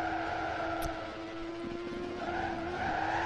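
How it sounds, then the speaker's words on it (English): A car drifts with its tires skidding in a 2D car physics video game: a sustained squealing skid with steady tonal bands over engine noise, running continuously at moderate level with no voices. "That was actually a pretty awesome drift!"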